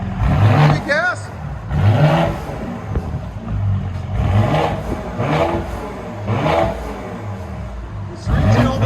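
A straight-piped 2019 Mercedes GLE 43 AMG engine revs repeatedly in loud, rising and falling pulls close by, heard under and between voices of people talking.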